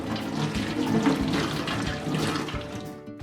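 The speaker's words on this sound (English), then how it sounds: "And then wash the ingredients thoroughly." Tap water runs steadily over peeled shallots and garlic being washed in a sink, a continuous splashing rush close by with small knocks from handling, easing off near the end.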